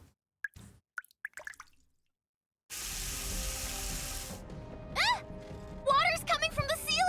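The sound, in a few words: water pouring in from the ceiling in NIKKE video game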